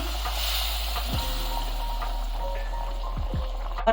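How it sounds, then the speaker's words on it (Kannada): A prepared tempering stirred into simmering village-style greens curry, soppina saru, giving a steady soft sizzle and bubbling hiss throughout, with faint utensil movements and a low background hum. "ಈಗ ನಾನು ಆಲ್ರೆಡಿ ರೆಡಿ ಮಾಡಿ ಇಟ್ಕೊಂಡಿರುವಂತ ಒಗ್ಗರಣೆ ಇದಕ್ಕೆ ಸೇರ್ತೀನಿ"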